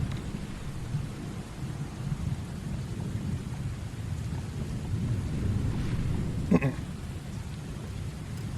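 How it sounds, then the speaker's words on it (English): Steady pouring rain in a bamboo forest with no thunder, a dense even hiss of downpour throughout, with one brief sharper crackle near the end. "YouTube video that's like rain in a bamboo forest, so there's no thunder, it's just pouring rain"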